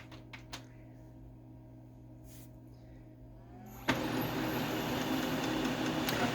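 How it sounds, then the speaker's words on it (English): A Brother HL-2240 series laser printer makes a few light clicks and a faint hum, then its mechanism starts with a thump and runs as a steady whirring roar while printing a report. "So we're going to print a report right now."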